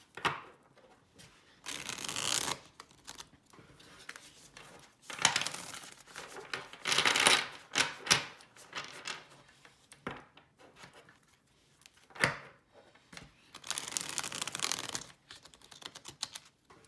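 Tarot cards from the Lili White and Lili Black decks are shuffled by hand in a quiet room, soft riffling and sliding bursts that come and go in irregular clusters, close to the microphone with no talking.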